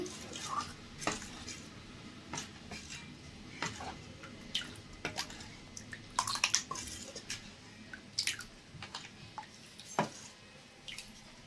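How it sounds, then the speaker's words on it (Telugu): Upma rava batter being mixed in a bowl: scattered clinks and scrapes of a spoon against the vessel, with soft wet stirring and occasional drips between them, close and fairly quiet. "బాగా ఒకసారి కలుపుకోవాలండి"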